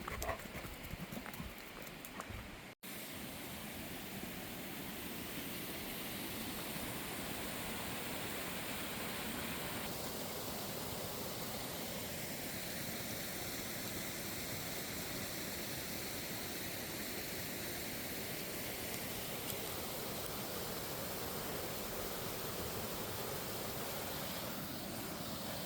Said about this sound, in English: I think waterfalls are so beautiful